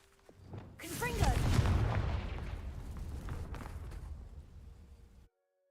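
A Confringo fire spell from Hogwarts Legacy bursts against dry vines with a loud whooshing blast. A crackling, roaring burn follows and fades over several seconds before cutting off.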